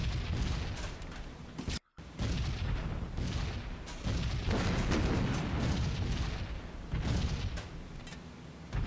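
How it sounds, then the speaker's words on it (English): Flak bursts from anti-aircraft guns boom around a B-17 bomber formation in a flight combat game, a dense, continuous barrage of heavy explosions with a brief dropout near the start. "Looks like the flak has gone slightly behind the formation, or slightly behind the lead aircraft anyway"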